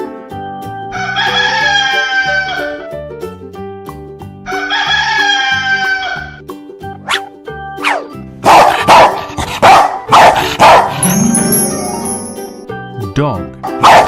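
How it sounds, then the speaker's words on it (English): A dog barks in short bursts amid a mix of farm animal sounds, including a rooster crowing, layered over playful background music in a children's learning piece. "Dog."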